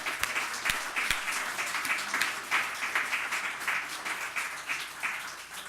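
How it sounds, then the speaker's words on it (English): A panel discussion audience applauds, a sustained, moderately loud patter of many hands with a few sharp nearby claps at the start, holding steady before easing slightly at the end. "first I would like to give a big hand of applause to this panel"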